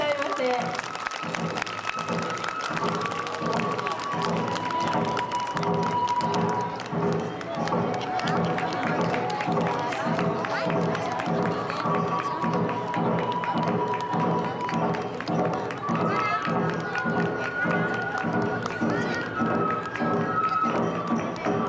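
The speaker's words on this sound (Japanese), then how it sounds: "大きな拍手でどうぞお迎えくださいませ。" Large outdoor crowd applauding to welcome twenty-two children's oni kenbai dancers at a Kitakami Michinoku folk performing arts festival, sustained dense clapping over a continuous bustle of voices.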